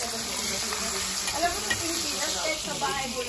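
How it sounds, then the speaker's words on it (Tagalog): Chicken wings deep-frying in hot oil give a steady, even sizzle and crackle with occasional small pops, close by and moderately quiet, with no talk over it. "deep fried chicken wings guys"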